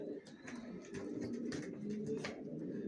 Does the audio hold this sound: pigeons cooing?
yes